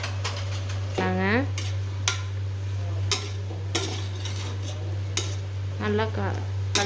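A spoon stirs tomato bajji mixture, Kongu style, in a metal pan, sending out a few sharp scraping clinks spaced apart over a steady low hum, with faint voice-like sounds in places.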